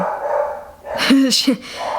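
A pet dog gives two quick barks close to the mic indoors, with a person talking just before and after.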